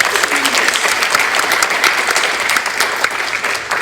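Applause for students at a Mt Vernon, Texas school board meeting: steady, dense clapping from a roomful of people that holds at an even level for about four seconds, with no break and no talk over it.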